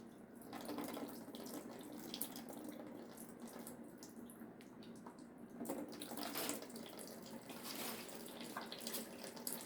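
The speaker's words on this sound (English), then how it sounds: "It's still all the water in the coil coming out." Water drains steadily out of a domestic hot water boiler coil, a continuous splashing rush like a running tap that swells in spots, close by with no talk.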